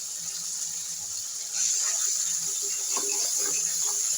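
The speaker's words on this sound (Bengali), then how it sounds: "মশলার বাটি ধোয়া জলটা দিয়ে দিচ্ছি" Spice-bowl rinse water poured into a pan of cooking masala for a catla fish and jackfruit curry, a steady splashing gush that starts partway through and continues close up.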